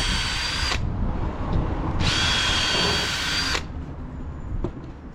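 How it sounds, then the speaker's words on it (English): A power drill bores a hinge hole in timber for a panelled garden gate, with two whining bursts about a second and a half apart separated by a brief pause, then a lower mechanical hum. Close and clear, with no voices. "That puts me a hole directly. The drill bit self-centres."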